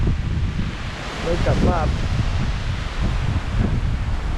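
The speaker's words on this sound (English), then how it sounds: "Very windy." Strong mountain wind in the Greek highlands, gusting and buffeting hard against the microphone with rustling, and a voice briefly speaking over the roar.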